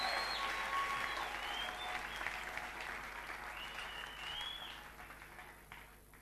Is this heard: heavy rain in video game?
no